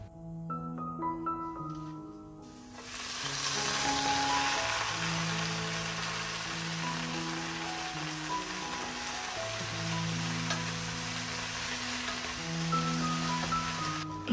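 Water spinach (kangkung) frying in hot oil gives a soft, steady sizzle like light rain, heard beneath continuous music.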